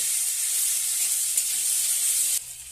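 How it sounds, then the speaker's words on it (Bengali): Fish pieces frying in hot oil with a little turmeric added, a bright continuous sizzle that stays loud and even, then drops off slightly near the end, with no voices. "এখন এই ভেজে নিচ্ছি তেলের মধ্যে"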